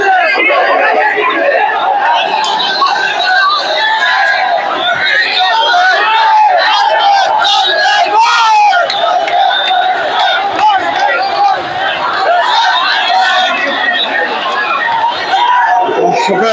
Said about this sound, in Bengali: আপনারা দেখছেন দীর্ঘ একটি মিছিল কিন্তু হাইকোর্টের সামনে দিয়ে।